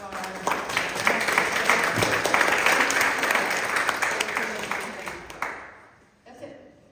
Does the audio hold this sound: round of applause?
yes